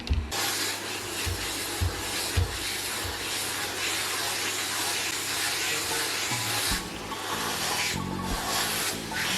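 A vacuum cleaner runs loudly and continuously, a harsh roaring hiss with brief shifts in tone as the nozzle moves.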